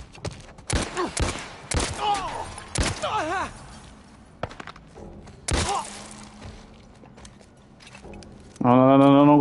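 Gunfire in the video game The Last of Us Left Behind comes as several sharp, loud shots spaced across a tense scene, mixed with shouted speech and other game sounds, ending with a loud sustained tone.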